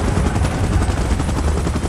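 Helicopter in PUBG Mobile during a Godzilla vs King Kong event, a loud close rotor thrum and engine drone that stays steady for the whole short stretch.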